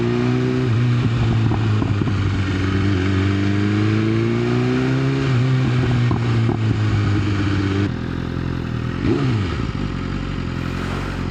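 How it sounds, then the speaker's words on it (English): A BMW S1000 motorcycle engine idles and revs nearby, its exhaust note echoing off surrounding walls with rising and falling pitch, loud and alone, ending with a quick blip of the throttle. "the exhaust is just bouncing off of these walls right here"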